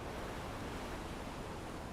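Ocean waves in the video game Wuthering Waves, a soft, steady surf wash with a faint airy hiss, distant and quiet throughout.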